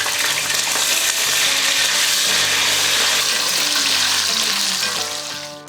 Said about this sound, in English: Now my spices are starting to pop. I'm going to add my potatoes.